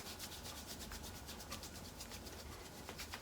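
Hands rub briskly over skin and clothing during a self massage of the calf and foot, a soft, steady rhythmic friction swish repeating close up with no talking.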